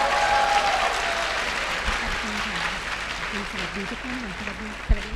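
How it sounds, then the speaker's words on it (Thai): A live audience applauds a young performer at the close of a talk event, a steady wash of clapping that continues through the clip while a voice carries on faintly beneath it. "ขอเสียงปรบมือให้กับน้องไรไรมากๆเลยนะคะ"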